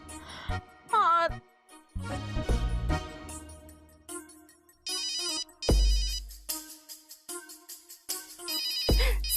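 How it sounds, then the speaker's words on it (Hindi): Ringtone-style electronic tones and bell jingles sound during an outgoing phone call in a Hindi TV serial home scene, arriving in several short bursts with gaps between them, alone without talk. "राधिका को फोन लगाती हूँ, कुछ गॉसिप तो सुनने मिलेगा।"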